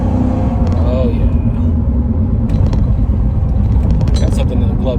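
Loud, steady low engine rumble and road noise from inside a 1980 Porsche 928 with a five-speed manual cruising on a highway, with a voice talking over it.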